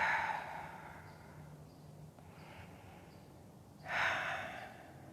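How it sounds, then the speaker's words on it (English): Breathing during a power yoga session: a soft, airy exhale at the start and a fuller breath about four seconds in, close and quiet against a hushed room. "Breathing."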